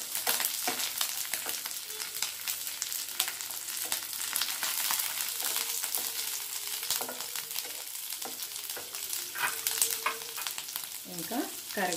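Four dry red chilies and three slit green chilies fry in a pan of oil, a steady loud sizzle with occasional stirring scrapes and clinks throughout.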